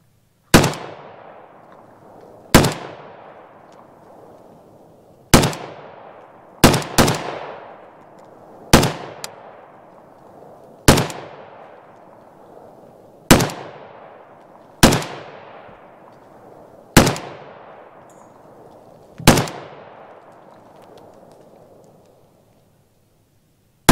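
A WBP 5.45mm AK74-style Jack rifle fired outdoors in single shots: ten sharp, loud reports spaced a couple of seconds apart, each trailing off in a long echo, with no talking.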